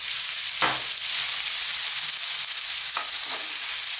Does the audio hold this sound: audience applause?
no